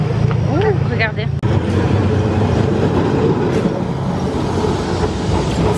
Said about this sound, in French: C'est le tram ici